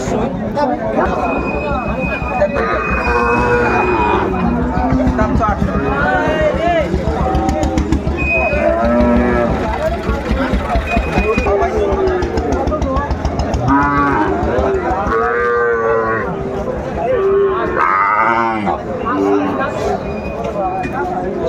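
Young Sahiwal bull calves, about three to four months old, mooing at a Narail cattle market, repeated calls mixed with constant close talk and crowd noise, traffic faint behind.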